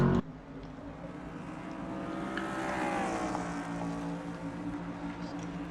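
Truck race engines scream at Monza in a racing video game, a sustained high-revving drone that rises and falls in pitch as a truck exits a corner onto the front stretch.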